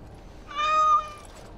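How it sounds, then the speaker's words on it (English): A single clear cat meow from the video game Dragon Age: Awakening DLC, rising and falling over about half a second against quiet background ambience, with no talking. "Oh, look at the cute little kitty."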